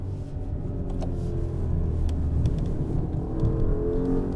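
A 2021 Maserati Ghibli Trofeo with a 580 hp Ferrari-built engine cruising, heard from inside the cabin as a steady low engine rumble and road whir with a muted exhaust note.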